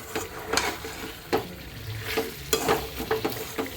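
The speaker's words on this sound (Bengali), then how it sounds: "আর এখন এখানে মুরগিটা ভুনা করব, সেটা কষিয়ে নিচ্ছি।" Chicken bhuna sizzling in a pan while being stirred, with a steady frying hiss broken by repeated scraping strokes of a spoon, close and fairly loud.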